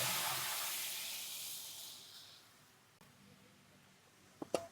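Onion frying in a pan gives a loud hiss that fades over a couple of seconds into a quiet low crackle, followed by a few sharp clicks near the end.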